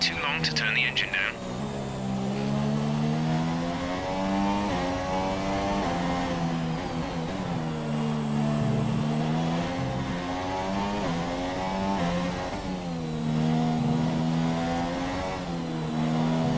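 A race car engine revs loudly and continuously during a race, its pitch rising and falling through gear changes over a steady drone, with a voice speaking over it.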